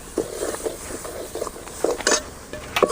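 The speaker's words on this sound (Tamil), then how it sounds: "நல்லா வதக்கி எடுத்துக்கணும் எண்ணெயிலேயே" Ground masala paste sautéing in oil for ivy gourd rice, stirred with a spoon in a pan; repeated soft scraping and clinking strokes with a faint sizzle underneath, fairly close and steady, without speech.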